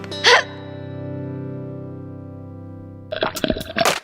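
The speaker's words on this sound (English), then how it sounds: "Nah, just a hiccup." A cartoon hiccup from an animated tofu character: one short, sharp electronic hiccup at the start, a long sustained buzzing tone, then a cluster of quick chattering effect bursts at the end.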